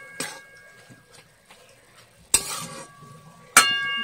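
Eggplant frying in a pan is stirred with a utensil, giving a few sharp metallic scrapes and bursts of sizzle over a quiet background, close up and without talk.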